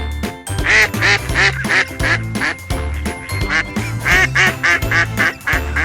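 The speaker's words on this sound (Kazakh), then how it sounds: "Үйрек кря-кря-кря дейді." Repeated duck quacks in rapid bursts, loud and close, several in a row with brief pauses between groups.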